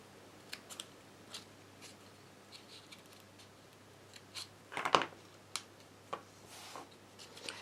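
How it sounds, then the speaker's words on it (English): Scissors snip through craft foam for a bow in a handful of short, crisp cuts spaced across the quiet, close up with one louder snip near the middle. "I'm going to cut this one off"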